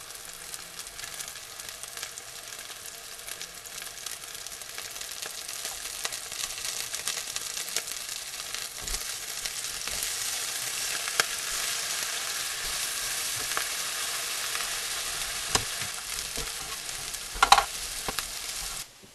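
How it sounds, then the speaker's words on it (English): Onions sauté slowly in a pan on an electric stove, giving a continuous soft sizzle that builds slightly over time, with occasional faint clicks and stirring taps, close by and without speech. "I'm going to slowly grill up some onions to put on the top, or saute up some onions to go on the top"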